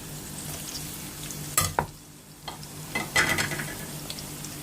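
Ginger is stir-fried with Chinese cabbage in a pan, a close sizzle punctuated by a few sharp spatula scrapes and tosses, with no talking.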